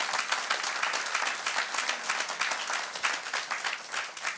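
Church congregation applauding loudly during a worship service, a dense sustained patter of many hands clapping throughout, close and continuous.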